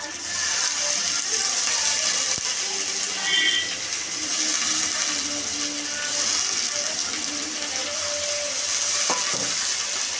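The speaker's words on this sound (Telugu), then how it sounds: "బాగా ఫ్రై చేసుకోవాలి." A paneer and soya chunk biryani mixture frying with coriander and mint gives a loud, steady sizzle throughout, with occasional faint clicks and stirring scrapes.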